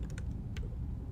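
A few light, scattered keystrokes on a computer keyboard, faint and close over a steady low room hum, with no one speaking.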